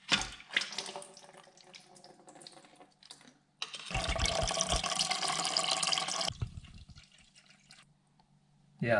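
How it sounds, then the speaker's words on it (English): Brackish old engine coolant drains from a vehicle, splashing and trickling steadily into a container nearby, swelling into a louder continuous stream midway before easing back to a thinner patter. "Yeah, that's some brackish old coolant. Holy smokes. Definitely time for that, eh? Right on. So I'm going to let that drip out."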